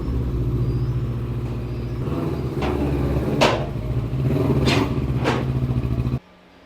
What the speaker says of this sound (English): we're going to do the dyno run now